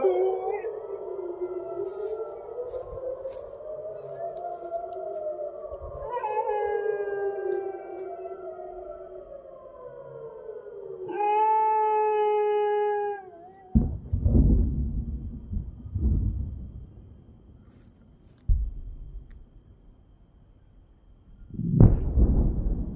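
A wailing civil defense air raid siren rises and falls while a dog howls along in long tones, then the siren stops and several deep, booming thuds follow, some separated by quiet gaps.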